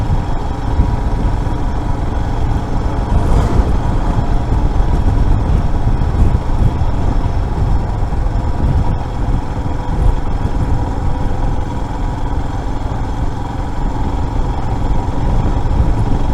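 A Royal Enfield Himalayan motorcycle's engine drones loudly and steadily while riding, with a dense, constant roar and road and wind noise throughout and no talk.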